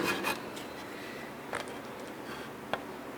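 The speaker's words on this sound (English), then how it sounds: "Now the instructions tell you to kind of work this into the pad a little bit to keep from just slinging it everywhere." Rubbing compound being worked into a foam polishing pad by hand, a soft, continuous rubbing and scuffing close by with a few faint taps.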